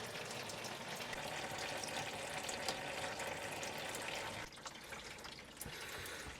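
Chevy 6L90E transmission fluid draining into a catch pan, a steady close trickling pour that runs unbroken, eases briefly near the end, then carries on, with no talking.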